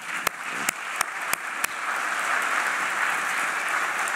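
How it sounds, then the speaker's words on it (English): Applause from the audience at a UNESCO General Assembly session, a few sharp early claps giving way to steady, dense clapping that fills the room. "We can applaud him if you want."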